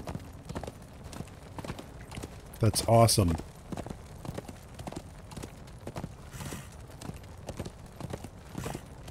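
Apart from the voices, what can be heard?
horse hooves clip-clopping in video game Darksiders 2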